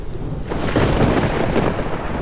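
Cartoon-style thunder and rain effect: a loud, deep rumble with a steady rain wash swells after a brief start and holds at full strength throughout.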